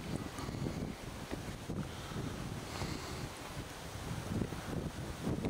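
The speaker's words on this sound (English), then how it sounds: "It's going to be very windy, but that's okay." Steady wind blows across a rough lake at Loch Sport, a continuous broadband rush with gusty buffeting on the microphone throughout, no voices.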